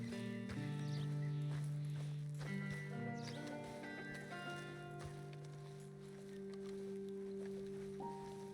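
A horse's hooves clip-clopping in Red Dead Redemption 2 on a wet, rainy path, soft irregular steps with squishy footfalls under a sustained musical score.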